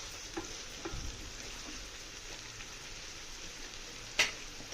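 Goat brain fry with ginger garlic paste cooking in a pan, a soft steady sizzle with scattered light spatter pops and one sharp utensil clink near the end.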